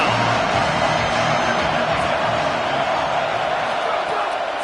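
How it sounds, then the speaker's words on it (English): A home crowd roars at a football game as the defense tries to get off the field on third down: a loud, dense, unbroken wall of cheering that holds steady throughout. "Here comes this home crowd as the defense tries to get off the field on 3rd down."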